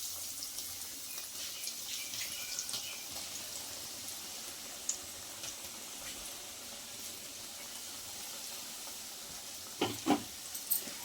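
Spoonfuls of pakoda batter sizzle in hot oil, with a steady hiss and crackle and a few sharper pops and spatters near the end, close and without speech.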